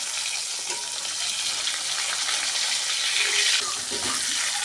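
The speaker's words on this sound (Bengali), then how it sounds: "তো মাছগুলোকে এখন উল্টে দেব।" Grass carp pieces frying in hot oil just after being turned, giving a steady, close sizzling hiss with no talking.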